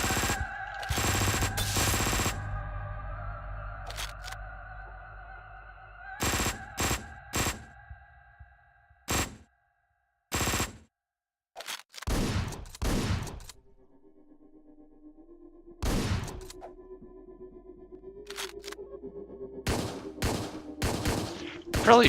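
Gunshots and shotgun blasts in the Hotline Miami 2 video game ring out as sharp, separate bangs and short clusters, loud and close, with music humming between them.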